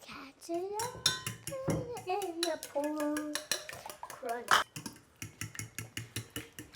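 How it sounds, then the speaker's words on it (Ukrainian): Eggs being whisked for dough in a bowl: rapid rhythmic clinking of a utensil against the dish, close and steady, while a child and an adult talk over it. "А тепер гарно замішуємо яйця для тіста."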